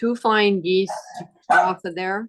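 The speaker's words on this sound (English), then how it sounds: "Sorry about the dog." A dog barks and yips indoors in short bursts during a live online quilting session, mixed with someone talking nearby.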